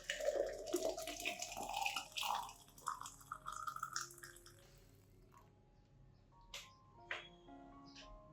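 Warm water poured and stirred with rice for an orchid propagation mix, a splashing, dripping pour that is busy for the first few seconds, then thins to scattered drips and small clinks. No one speaks.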